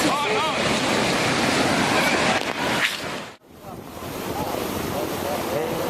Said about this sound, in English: This tsunami that hit California was caused by an earthquake off the coast of Japan.